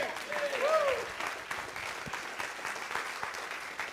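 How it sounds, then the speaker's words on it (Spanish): A Spanish-speaking church congregation claps for the Lord, a diffuse, moderate patter of many hands heard from a distance, with a brief voice or whistle-like tone early on. "Dele palmas al Señor"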